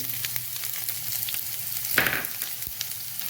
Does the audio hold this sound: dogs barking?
no